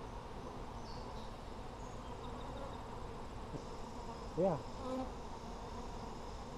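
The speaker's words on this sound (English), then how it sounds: "Look at all bees." Honeybees buzz in an open hive full of brood, a dense steady drone heard up close, with a brief word spoken once over it.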